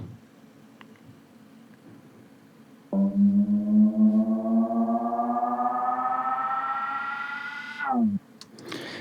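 A synth bass patch with rich harmonics slides slowly upward in pitch for about five seconds, then cuts off abruptly; no voices.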